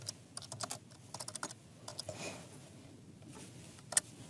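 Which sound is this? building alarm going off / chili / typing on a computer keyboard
typing on a computer keyboard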